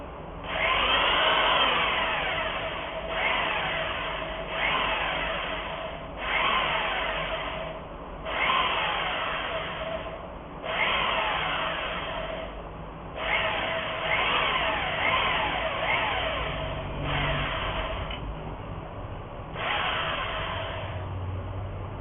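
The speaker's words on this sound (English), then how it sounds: "using a hand drill like this, then just be careful and make sure that you are drilling perpendicularly" A hand drill whirs loudly close by in about ten sustained bursts while building a VHF Yagi antenna, each run a few seconds long with brief pauses between them.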